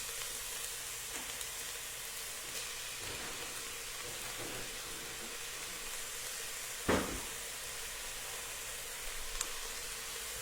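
Onion sizzling in hot olive oil in a preheated pan, a steady soft crackling hiss throughout with one sharper pop partway, no talking.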